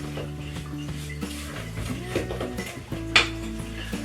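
Spatula scraping around the sides of a mixing bowl of creamy cake batter, a steady run of soft scrapes and light knocks close by, with one sharper clink near the end.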